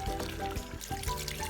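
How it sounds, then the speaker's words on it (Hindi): Water pours steadily and continuously into a pot of simmering Lahori beef paya curry, with a loud, close, gushing splash throughout and no voices. "तो अब हम इसमें डाल देंगे पानी।"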